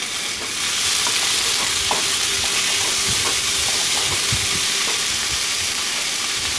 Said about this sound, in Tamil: சின்ன வெங்காயம் இஞ்சி பூண்டு சேர்த்து வதக்கிட்டு இருக்கேன்